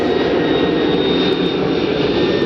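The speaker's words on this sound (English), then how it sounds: "That is the very first wide-body twin-engine aircraft ever made, the Airbus A300." A FedEx Airbus A300-600 wide-body twin-engine jet climbs away after takeoff in Memphis, a loud, steady jet roar with a sustained high whine, heard alone without talk.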